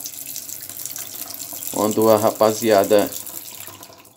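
Water running from a tap into a handmade reinforced-concrete sink at a countryside smallholding, a soft steady trickle heard under someone talking in Portuguese partway through.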